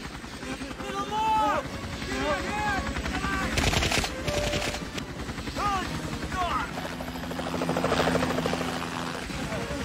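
Helicopter rotor thrum in a busy action movie scene with gunfire, layered under music and overlapping voices throughout.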